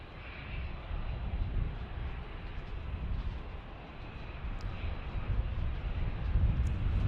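An airliner in a special California One livery at Dallas Love Field, Texas, produces a steady, faint jet engine roar with wind-like broadband rumble throughout.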